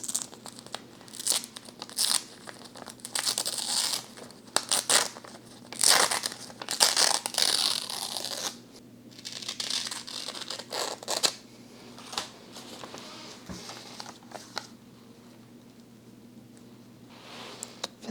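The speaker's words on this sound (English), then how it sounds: "I like the ripped look when it comes to paper." Magazine paper is torn by hand for a journal collage, giving repeated close crinkling and ripping bursts with short pauses, over a low steady hum.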